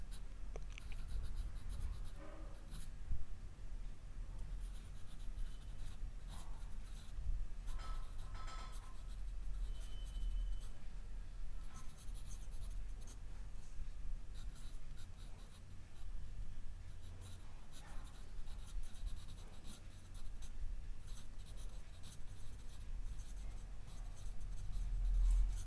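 A pen writing out geometry working by hand, steady close scratching and short strokes continuing for a long stretch, quiet and uninterrupted by talk.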